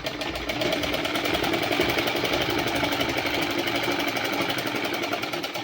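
A sewing machine runs continuously while stitching a suit sleeve seam, producing a steady, close, rapid mechanical chatter with a fast needle rhythm and no pauses.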